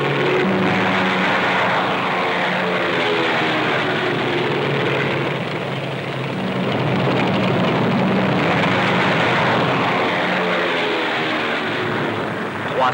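Loud, droning engines swell and fade over several seconds as multiple Japanese aircraft take off from aircraft carriers during the Pearl Harbor attack, with no speech.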